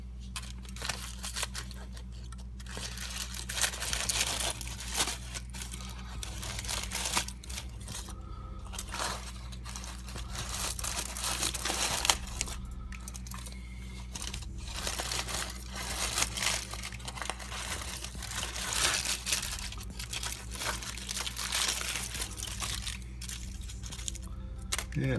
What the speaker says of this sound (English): I'm going to just cut this tinfoil open instead of trying to unwrap it.